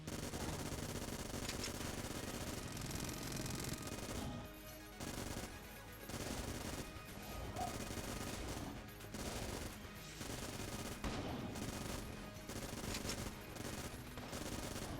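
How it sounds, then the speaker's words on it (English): Rapid pulse firing of the Platinum Cannon in the video game Enter the Gungeon, loud dense bursts of automatic gunfire broken by brief pauses between volleys, with no talking. "I should definitely continue pulse firing it like this"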